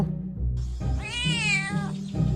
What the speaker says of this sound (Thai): แมวตัวนี้นี่เอง